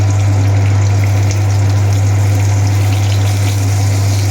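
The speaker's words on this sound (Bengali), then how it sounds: "বেগুন ভাজা লাস্ট ভাজা হচ্ছে" Brinjal slices frying in plenty of oil in a home kitchen, alongside pomfret frying nearby, giving a steady, loud, continuous sizzle and bubbling hiss with a constant low hum underneath and no talk.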